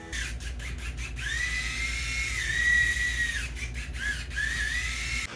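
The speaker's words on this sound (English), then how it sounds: "the RX5 just physically seizes up, and you have to like stop over and over. It makes this noise." A Remington RX5 rotary shaver seizing up while cutting hair gives a high, strained electric whine that repeatedly stalls and restarts, with stuttering clicks between the runs, close and loud.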